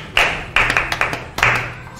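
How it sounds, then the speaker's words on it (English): A small group of children claps during a kids' club TV show, giving a few short, close bursts of uneven clapping separated by brief pauses. "Let's clap for her."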